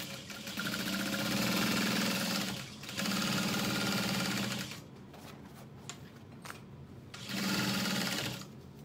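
A sewing machine stitches a garment lining at a short stitch length and half-inch seam allowance, running in three steady whirring bursts with brief pauses between them.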